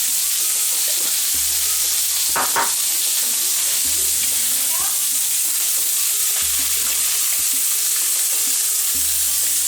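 A Moroccan chermoula with garlic, thyme and other herbs sizzles steadily in a pan, a constant close frying hiss with occasional soft stirring clicks and no talking.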